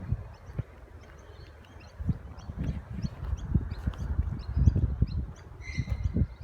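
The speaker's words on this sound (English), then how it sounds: "Oh, you can really hear lots of birds over here." Many small birds chirp faintly and sporadically in the distance outdoors along a trail beside a road, scattered calls over low thumping footsteps and rustling.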